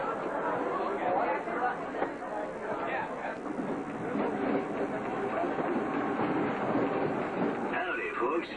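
The Disneyland Railroad steam train rolls along in 1988 with steady rumbling and rhythmic rail clatter while a crowd of passengers chatters nearby.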